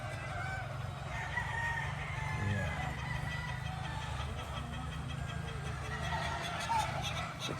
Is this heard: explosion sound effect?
no